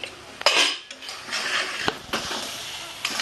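Metal pot lid clanks onto a cooking pot on the stove, a sharp clang followed by softer scraping and rattling of cookware and a faint sizzle underneath.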